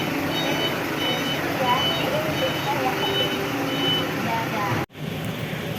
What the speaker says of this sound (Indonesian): Dan ini bakal diparkir mundur dulu supaya bisa masuk.